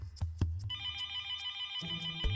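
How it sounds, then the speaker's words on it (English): A telephone bell rings in a sustained, bright electronic trill that starts abruptly and holds steady, loud and close, with no talking. "then the phone rang"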